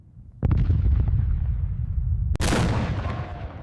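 Heavy US 240mm howitzer shells impacting, a deep rumbling blast that rolls on for seconds before a second sharp explosion cracks in, loud and booming with no voices.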